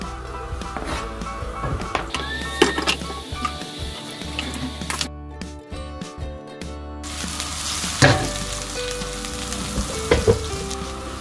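Garlic sizzles and fries in a little cooking oil in a pan, a steady close crackling hiss with occasional stirring clatter, a brief quieter gap midway, no talking.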